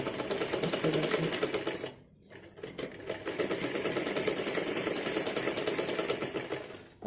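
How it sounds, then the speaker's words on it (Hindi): A sewing machine runs steadily, stitching fabric for a child's Holi outfit, with a brief pause near two seconds before the continuous whirring resumes at close range; no talking. "ये सिलाई लगानी है हमने"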